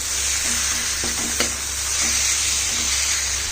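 Kasuri methi being stirred into a sizzling curry in a pan for malai kofta, a steady hiss with a few soft scraping strokes of the spoon close by.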